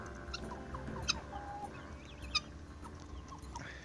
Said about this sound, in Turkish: Gerçekten güzel bir horoz olacak.